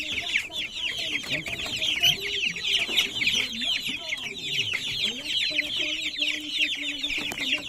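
Native chickens clucking steadily and close, a dense overlapping flock chorus with occasional rooster-like calls, in a rural provincial coop setting, continuous throughout.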